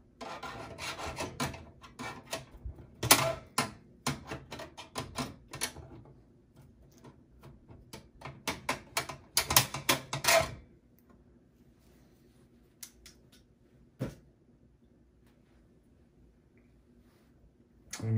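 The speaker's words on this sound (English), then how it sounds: "Let's mount the case." Parts of a Dell Inspiron 3650 desktop case being fitted together, with scraping, rubbing and clicking of panels and hardware in irregular bursts up close, then a few isolated knocks over near silence.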